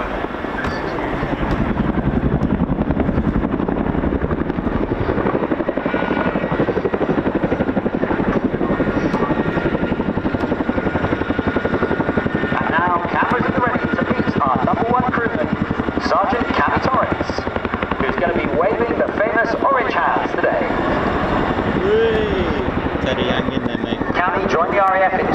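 Chinook twin-rotor helicopter flying at the RAF Cosford air show, a loud, steady rotor and engine roar with a continuous chopping throb lasting throughout, mixed with commentary and crowd noise.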